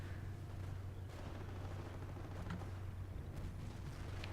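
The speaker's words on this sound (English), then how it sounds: "I'm hearing lots of explosions going on" Explosions and gunfire rumble continuously through a World War II video game battle with grenades, tanks and an AT gun, a dense low roar with scattered sharper bursts and no pause.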